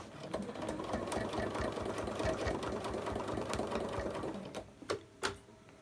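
Sewing machine stitching ruler fan quilting on an apple core runner, running in a steady rapid stitching rhythm throughout, close and fairly loud, with a few sharper clicks near the end.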